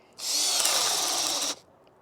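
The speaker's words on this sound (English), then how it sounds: "start with the 1 inch spade bit" A cordless RIDGID drill spins a 1 inch spade bit into wood in one steady high-pitched whine lasting about a second and a half, close and alone, starting and stopping abruptly.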